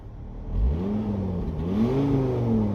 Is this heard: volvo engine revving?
yes